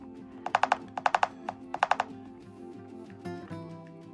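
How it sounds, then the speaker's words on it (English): Keys tapped on a keyboard while typing a search word, three quick bursts of clicks in short rhythmic runs, close and moderately loud, followed by a softer stray click. "So I'm going to type in thumbnail."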